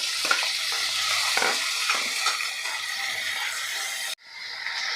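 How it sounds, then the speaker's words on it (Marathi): Finely chopped medium onion sizzles steadily in hot oil with cumin and mustard seeds, with scraping stirs throughout, cut off abruptly near the end. "इथे कांदा आपल्याला सोनेरी रंगावर परतून घ्यायचा आहे"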